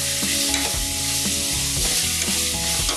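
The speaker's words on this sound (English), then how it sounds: "I'm going to add the garlic in. And I'm just gonna cook that briefly." Onion and garlic fry in a pan for beef and bean chili, a loud dense sizzle with repeated rhythmic stirring scrapes and knocks, close up, no voices.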